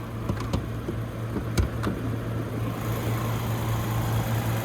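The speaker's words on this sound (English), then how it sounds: "the 3-liter turbocharged inline 6 engine, mostly covered up" A 2022 Range Rover's 3-liter turbocharged inline-six engine idles steadily nearby, a constant low hum with a few light clicks over it.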